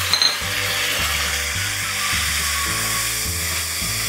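Chopped tomatoes and chili fry steadily in a pan, a continuous close sizzle and crackle with low rhythmic thumps pulsing underneath throughout.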